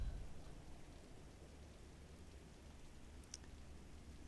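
Rain in Microsoft Flight Simulator 2024 on a flight from Oslo to Bergen, a faint, unbroken patter of drops with a low rumble underneath and one small brief tick near the end.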